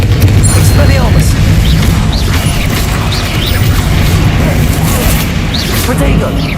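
Spell blasts and booming explosions from combat in the video game Hogwarts Legacy, loud and continuous with whooshes and crashes, while a voice calls out spell names over the action.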